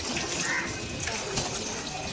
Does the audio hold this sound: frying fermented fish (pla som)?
no